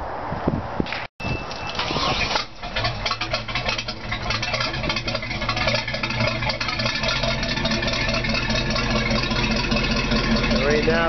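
A 232 Captiva boat's motor runs steadily, a loud mid-pitched droning with rattling undertones, starting after a brief stutter and continuing evenly throughout.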